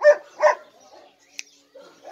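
Pit bull dog giving two sharp barks close by, then quieter whimpering and faint yips, with a brief click in the middle.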